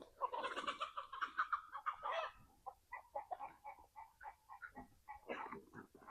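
Hens on a small hobby farm cluck softly in a morning yard. Several birds give a flurry of close calls first, then scattered, fainter clucks that continue steadily.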